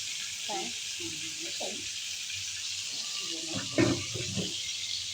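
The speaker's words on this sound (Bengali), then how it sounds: "তারপরে আমরা ওই তেলে মাংসগুলো ছেড়ে দিলাম" Steady hiss of goat meat frying in hot oil runs throughout, with a few clinks and soft knocks of utensils over it, and a louder clatter near the end.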